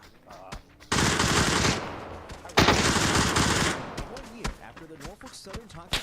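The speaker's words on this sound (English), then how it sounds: "We're being sniped." Sniper gunfire in a video game, two heavy sustained bursts of loud shooting close by, with voices talking between and after the volleys.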